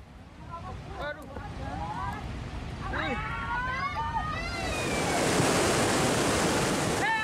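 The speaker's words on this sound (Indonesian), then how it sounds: "sopir membiarkan truk dihantam derasnya banjir lahar" A cold lahar flood from Mount Semeru on the Besuk river in Lumajang, East Java, roars as a broad, turbulent rush that grows louder toward the end, with people shouting over it.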